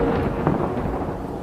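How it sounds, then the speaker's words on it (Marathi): Steady rumble of a thunderstorm with heavy rain, a continuous low roar and dense patter by the stormy sea, loud and unbroken with no voices. "समोर पाऊस होता"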